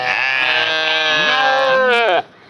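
A sheep bleats in one long, loud, wavering cry lasting about two seconds, close to the listener, then cuts off abruptly into quiet.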